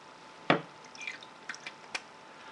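Fountain pen plunger expelling ink into water: a single sharp wet spurt followed by a few faint drips and small bubbling pops, close and quiet.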